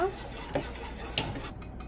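A spoon stirs buttermilk into black kavuni rice porridge, with a few soft scraping and clinking touches against the vessel at close range in a quiet room.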